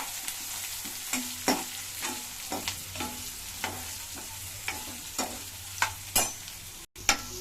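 Onion frying in a pan of oil, a continuous sizzle broken by repeated spoon scrapes and taps as it is stirred, close and steady with no talking.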